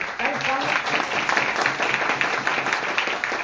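An audience claps at a motivational talk, steady dense applause throughout with a faint murmur of voices beneath it.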